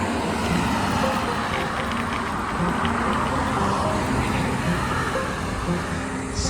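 Busy road traffic with cars and trucks passing, a continuous loud rushing roar of engines and tyres at close range that holds steady throughout, with no pauses or gaps.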